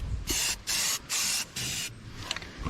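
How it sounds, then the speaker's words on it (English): A spray gun coating a 14,000-pound GVWR equipment trailer with paint lets out four short, loud, close hissing bursts in a quick, even rhythm, each cutting off sharply with brief pauses between them. "One of my biggest pet peeves with spray painting is people like to just hold down on this trigger"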